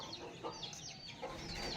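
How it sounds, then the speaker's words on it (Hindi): A rooster and three desi hens clucking in a yard, the soft, scratchy calls repeating unevenly at close range over steady background noise, with no one speaking. "उस साइड जो है ये एक मुर्गा और 3 मुर्गियाँ हैं।"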